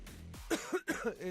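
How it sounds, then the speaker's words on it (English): Several short, rough coughs in quick succession, close to the listener. "I got a cough."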